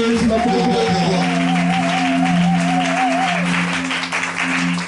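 Church congregation applauding loudly and continuously, a steady wash of clapping under sustained singing or a held vocal line and a humming tone.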